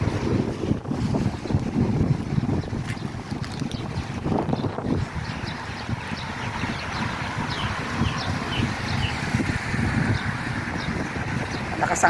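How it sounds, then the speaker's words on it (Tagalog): Strong wind roars and buffets the microphone outdoors near water, a constant rushing wash with low gusty rumbles, joined by faint bird chirps in the background. "Lakas ang hangin guys."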